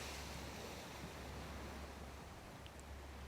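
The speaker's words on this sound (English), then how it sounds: "As if you're watching the waves crash on an empty beach." Steady wash of surf rolling onto an empty beach, a broad continuous roar with light wind, no voices and no distinct individual breakers standing out.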